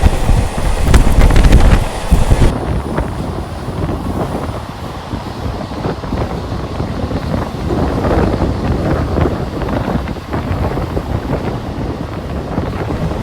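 A Barddhaman–Howrah local train pulls out of Dankuni station, its steady rumble and rattle running alongside loud wind buffeting the microphone, strongest in the first couple of seconds, then a continuous rolling roar with no talk.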